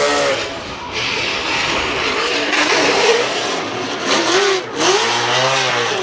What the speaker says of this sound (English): driving his Toyota Altezza with the Mopar NASCAR V8